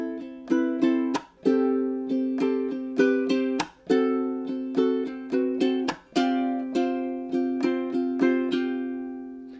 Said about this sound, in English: the whole strum part, should sound something like this